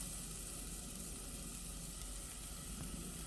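Onions frying in a pan over low heat for a Nigerian beef meat pie filling, a steady, even sizzle and hiss that runs unbroken throughout, close and moderately loud with no talking.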